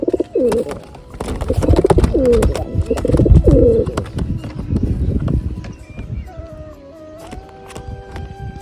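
Pigeons coo repeatedly close by in soft, throaty bursts, mixed with shuffling and clattering noises around them.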